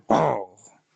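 A voice imitates a single dog bark as one short, loud, throaty burst that fades quickly.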